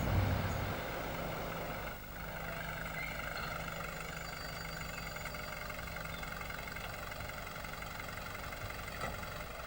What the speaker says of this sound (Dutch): Ik sta stil in de stek, er is één motor afgeslagen.